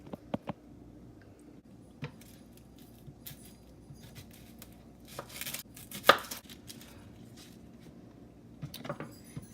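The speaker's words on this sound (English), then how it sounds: "I'm just going to go ahead and chop the tops off" Sparse, crisp knife taps against a cutting board as vegetable tops are chopped off, with irregular chops close by in a quiet kitchen.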